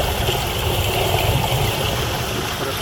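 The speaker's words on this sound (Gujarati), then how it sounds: "અહીંયાથી પુષ્કળ પાણી અંદર જઈ રહ્યું છે." Water pours steadily into a borewell during monsoon recharge, a continuous, close, full rushing and trickling flow that holds an even level throughout with no voices.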